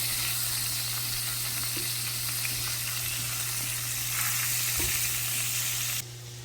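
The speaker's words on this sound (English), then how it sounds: "Some minced garlic. And we'll stir that up." Minced garlic sizzles loudly in melted butter in a pan, a dense close hiss with faint stirring scrapes, which drops sharply in level near the end.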